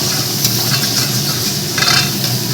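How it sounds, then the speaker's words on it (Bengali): Ground spice paste sizzles and hisses in a hot pan as it is stirred, with a steady frying crackle and occasional scraping, close up and with no talking. "ওই মশলাটা একটু কষিয়ে নিই"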